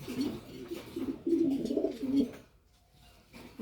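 A pigeon in a breeding loft coos up close in low, throaty, repeated phrases for about two seconds before it falls quiet.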